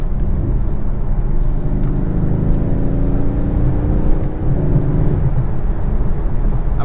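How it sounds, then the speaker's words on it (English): Mercedes GLC 63 AMG SUV with a V8, heard from inside while driving: a steady, loud low engine drone with slowly rising harmonic tones as it pulls through the gears, continuous throughout with no talking. "just that V8 distinctive AMG sound, it's just so unique"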